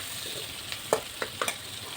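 Spices and ingredients for paneer butter masala frying in a pan, a soft continuous sizzle broken by a few sharp pops and stirring scrapes, close and fairly quiet with no talking.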